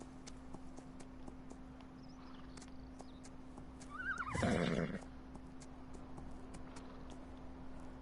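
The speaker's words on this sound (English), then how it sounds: "Horse Patrick is back in the stable." A horse in Farming Simulator 19 on PS4 gives one loud, close whinny lasting about a second, with soft hoof clip-clops and a steady hum running underneath.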